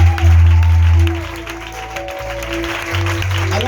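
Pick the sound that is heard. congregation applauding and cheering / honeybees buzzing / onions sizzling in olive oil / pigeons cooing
congregation applauding and cheering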